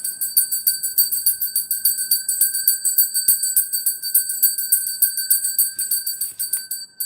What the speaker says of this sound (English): let's just ring that bell